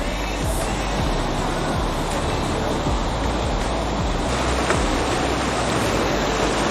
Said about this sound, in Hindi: ये नेचर की साउंड है, ये जो पानी की फ्लोइंग वाटर की साउंड है।